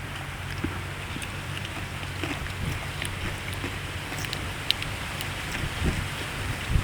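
Steady rain hisses and patters continuously, with scattered droplets ticking nearby and no voices.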